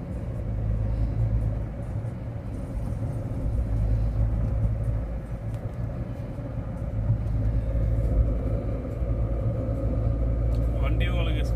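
A car driving along a road and easing its speed for a slight turn at a crossing, with a steady low engine and road rumble heard from inside the cabin while someone talks throughout.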